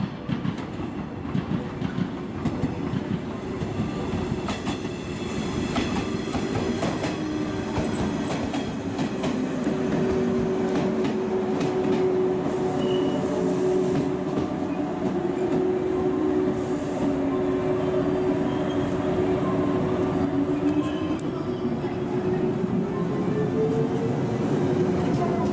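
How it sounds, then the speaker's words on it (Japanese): A 115-series train pulls away from platform 3 at Kurashiki Station with a steady close rumble of wheels and a long, wavering metallic squeal. No one speaks. "3番乗り場から電車が発車します。"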